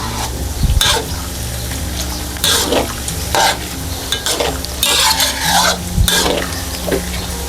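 Pork belly pieces fry in hot oil over medium heat and are stirred constantly, a loud, continuous crackling sizzle punctuated by repeated scraping sweeps of the utensil through the pan.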